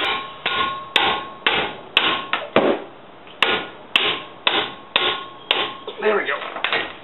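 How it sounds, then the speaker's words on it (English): Hammer blows strike a car's brake assembly near the caliper and rotor while removing a stubborn 17 mm fastener, roughly a dozen sharp metallic strikes in an uneven rhythm, close and loud, with no talking. "To break this one, you might need to use a hammer."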